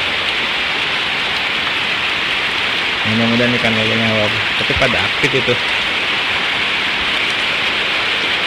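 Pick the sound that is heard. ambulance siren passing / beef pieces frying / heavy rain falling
heavy rain falling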